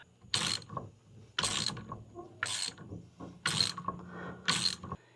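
A ratchet wrench loosening the centre nut of a factory steering wheel during an American Retro steering wheel installation, five bursts of rapid clicking a second apart, close and fairly loud, with no talk.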